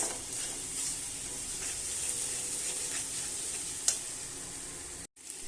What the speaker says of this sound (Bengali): এবার আমি এই মশলাটা দিয়ে দেব। দিয়ে ভালোভাবে কষাবো।